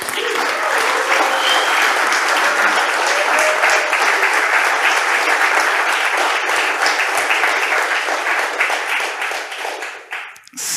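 An audience at a Houdini user group presentation applauds loudly and continuously for about ten seconds before the clapping thins and fades out at the end.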